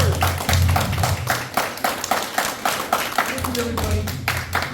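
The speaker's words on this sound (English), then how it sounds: "Give them a round of applause, y'all." Applause from a panel discussion audience, steady clapping over a low hum and a murmur of voices, fairly loud throughout.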